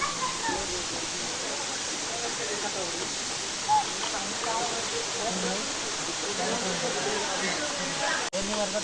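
Continuous broad hiss of the Gadgadi waterfall flowing in a monsoon forest, a steady rushing wash with a voice speaking over it.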